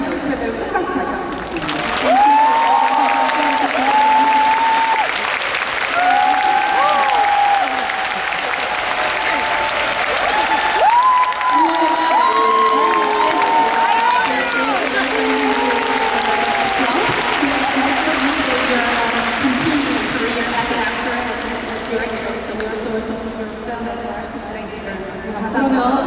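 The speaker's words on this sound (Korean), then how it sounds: "감독님께 앞으로도 좋은 작품 많이 연출해달라고 큰 박수 다시 한번 부탁드립니다." Audience applause fills an outdoor open-air cinema screening in a plaza, steady clapping from a crowd sustained for the whole stretch, with voices and chatter mixed in.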